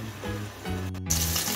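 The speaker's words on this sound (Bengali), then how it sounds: "এখন গ্যাস মিডিয়ামে রেখে আমি মাছ ভেজে নেব।" Pieces of katla fish fry in oil in a nonstick pan over a medium gas flame; a low tonal hum gives way to a bright, close sizzle.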